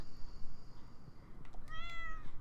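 A cat in a farming video game gives a single short, clear meow near the end, over a low steady background hum.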